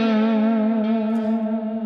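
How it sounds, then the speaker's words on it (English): An electric guitar note starts pitched slightly low and is bent upward with the whammy bar to settle on the major third. It rings as a single sustained, effect-laden tone with reverb and slight distortion, loud and alone. "you just like start with the whammy bar dive bombed a little bit, and you bend into the major third"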